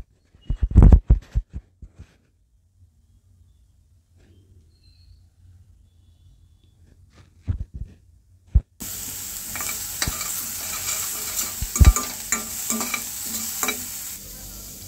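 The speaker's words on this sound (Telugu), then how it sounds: "ఉల్లిపాయ కూడా వేసేసుకొని గంట తీసుకొని తిప్పుతూ ఉండాలి" A ladle stirring onions in a pan while cooking a multigrain sprouted soup, with scattered clinks and scrapes, then a steady sizzle of frying under continued stirring strokes.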